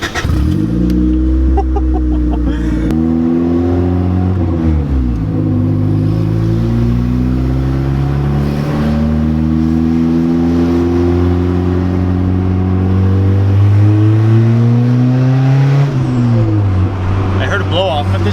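A turbocharged Honda Civic EG engine running at its first start, a close, loud mid-pitched drone that climbs and dips through repeated revs, with people talking over it throughout.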